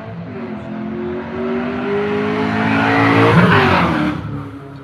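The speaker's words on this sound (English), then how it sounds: "Pardon the road noise." A passing car roars by on the road, rising to a loud whoosh of engine and tire noise before fading away.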